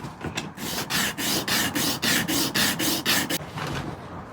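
Sandpaper rubbing back and forth on a wooden bar from a mid-19th-century piano, about a dozen quick, even rasping strokes close up, with no talking.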